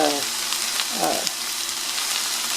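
Cabbage fries in oil with onions in a pan, giving a steady close sizzle with a brief stir partway through and no speech.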